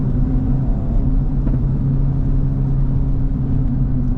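Cabin engine drone inside a 2025 Acura Integra Type S while driving, a steady low rumble with a constant hum, fairly loud and unchanging, with no talking.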